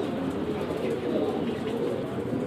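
Domestic pigeon cooing softly and continuously, a low murmuring coo from a Kamagar breed bird, close by with steady, even level throughout.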